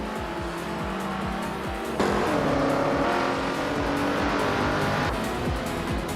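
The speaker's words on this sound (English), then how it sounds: "is racing a 1964 Porsche 356C" A 1964 Porsche 356C race car engine drones loudly and steadily in a racing video game, its harmonic whine shifting up at a gear change, with faint tire squeal over the continuous roar.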